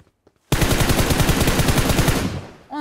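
Automatic weapon fire in the mobile battle-royale game PUBG Mobile: a loud, close, continuous rapid burst of shots lasting about two seconds, starting abruptly after a brief silence and cutting off at the end.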